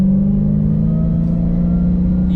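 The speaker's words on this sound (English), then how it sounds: "You hear that supercharger winding?" A Dodge Charger Hellcat cruises with a steady, loud engine drone and a sustained tonal whine from the supercharger, unbroken and even throughout, with no voices.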